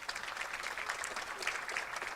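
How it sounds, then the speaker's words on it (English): An audience at an international women judges' association conference gives a steady round of applause, moderately faint and even throughout, with no speech over it. "Let us give her a round of applause."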